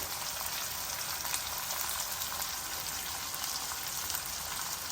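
Onions and green chillies fry in a pan for a fenugreek-leaf and tomato curry, giving a steady, dense hiss of oil that stays even and unbroken throughout, with no voices.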